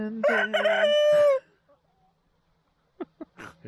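A rooster gives one loud, close crow lasting over a second, followed by silence and then a few faint clucks and small sounds.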